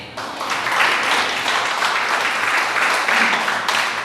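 A congregation applauds God during a church service, with dense, sustained clapping that rises quickly and holds steady, loud and close, for several seconds.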